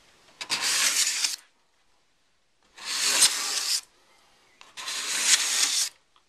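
A sharpened card scraper pulls curly shavings from a wooden surface in three separate strokes, each a close, dry, rasping hiss about a second long with quiet pauses between.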